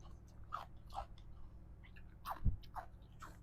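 Someone eats small grilled catfish with rice and spicy som tam over rice noodles, with close, moist chewing and soft crunchy bites in irregular bursts, about five or six distinct chews, with no talking.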